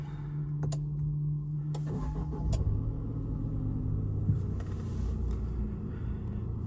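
A BAW 212 SUV's engine cranks and starts, a steady low rumble with a few sharp clicks near the start, heard up close from inside the cabin.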